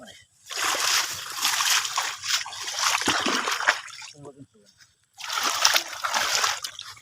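Water splashing and sloshing as someone wades into a small pond, bursts of close splashes broken by a brief quiet pause, with someone talking over them.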